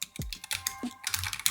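Fast typing on a Yunzii L75 low-profile keyboard gives close, crisp clacks in quick irregular runs, with a few deeper thocks mixed in.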